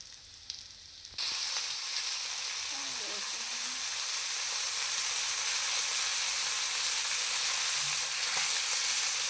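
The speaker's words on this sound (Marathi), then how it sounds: "तो असा व्यवस्थित तव्यावर ठेवून घ्यायचा आणि गॅस बारीक करून व्यवस्थित एक बाजू चांगली शेकून घेऊया" Breadcrumb-coated pomfret fries Konkani style on a griddle pan over a low flame, a steady close sizzle that starts abruptly and holds evenly with a faint voice in the background.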